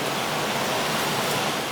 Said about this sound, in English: Look at all that water coming out of there.